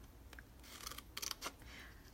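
Scissors cutting a piece of material for an Easter treat holder craft, with a few quick crisp snips clustered together, close and quiet with no speech.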